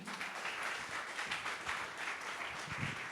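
A church congregation applauds to welcome the pastor to the pulpit for a morning service, a steady, even wash of many hands clapping that carries on throughout without a break.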